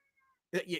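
A house cat gives a short meow, loud and close, that breaks in abruptly after near silence and faint tones, then trails off within about a third of a second.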